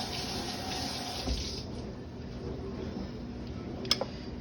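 Tap water runs steadily into a sink while a peeled russet potato is rinsed under it. The flow is continuous and moderately close, with a couple of small clicks near the end.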